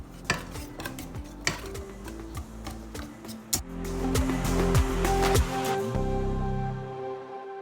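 Egg being mixed into banana bread batter in a bowl, with repeated spoon or whisk clinks against the bowl at first, then steadier scraping and stirring, close and moderately loud, no talking.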